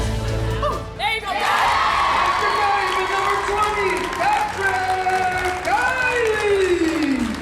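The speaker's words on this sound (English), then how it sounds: "sometimes they always cheer" Children and a crowd cheer and applaud together at a community holiday event. The noise is loud and sustained, with scattered whoops rising above the clapping.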